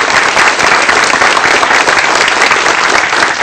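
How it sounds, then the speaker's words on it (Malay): A university student audience at a panel discussion breaks into loud, dense applause for a panelist, a steady roar of clapping throughout. "Tepukan untuk Zaid."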